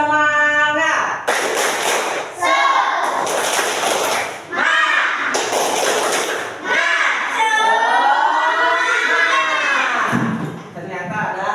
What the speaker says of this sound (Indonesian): Ya, 1, 2, 3. Tepuk semangat.